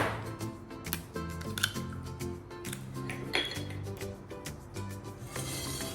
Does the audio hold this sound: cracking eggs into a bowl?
yes